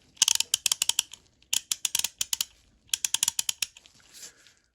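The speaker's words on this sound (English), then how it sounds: "You test it out, see if it's ratcheting." A Duralast 73-873 3/8-inch drive ratchet with a 36-tooth mechanism and a rubber comfort handle clicks in quick, crisp bursts of sharp ticks, close and alone, with short pauses between runs after reassembly.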